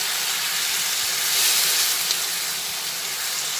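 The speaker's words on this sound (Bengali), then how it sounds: "একদম অল্প জল দিয়ে আবার একটু ভালোভাবে কষিয়ে নিচ্ছি।" Pointed gourd and potato curry sautéing in a pan with a splash of water, giving a steady, close, broadband sizzle and hiss that swells briefly midway, with no talking.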